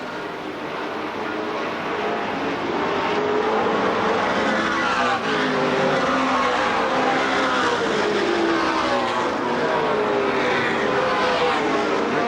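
Stock cars race around Winchester Speedway in a steady, loud roar of engines, a dense pack of cars droning continuously at a distance with occasional passing swells.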